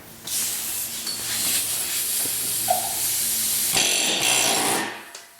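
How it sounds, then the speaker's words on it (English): A loud, continuous pneumatic air hammer hiss and rattle on a car wheel stud runs for several seconds up close, shifting in tone partway through before cutting off. "Or we use the air hammer."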